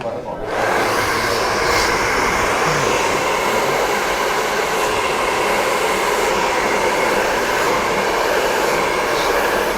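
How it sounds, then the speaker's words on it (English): A hair dryer blows out hair from underneath during a Viking-style beard trim and choppy haircut. It starts abruptly and then holds a loud, steady, close whooshing roar to the end. "to get underneath it first and blow dry it out from underneath"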